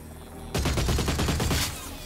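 Gunfire from aiming and shooting in Oddworld: Soulstorm on PS5 starts abruptly after a quiet moment, a rapid, close and loud volley of shots lasting just over a second before easing off.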